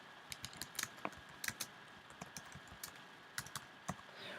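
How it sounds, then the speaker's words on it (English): Typing on a computer keyboard while entering a book title in a document: quick, irregular clicks and key taps, some louder strikes, close and clear with no talking. "We are then going to type in the words title of book."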